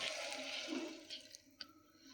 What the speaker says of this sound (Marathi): आता आपण सर्व मिश्रण कुकरमध्ये टाकून आता आपण 1 ग्लास पाणी यामध्ये टाकणार आहोत